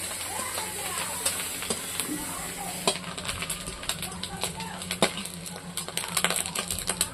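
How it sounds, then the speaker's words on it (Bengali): Fish roe frying in foaming oil in a pan, a close crackling sizzle with scattered sharp pops and stirring scrapes, fairly quiet overall, and no talk. "আর ডিমটা যে ভাজছি"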